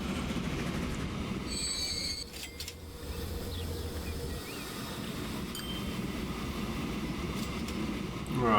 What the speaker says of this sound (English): our second train is down here.